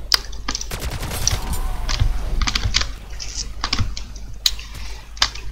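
Automatic turret gunfire rattles in a shooter video game, with rapid bursts of shots alongside quick computer keyboard clicks and tapping.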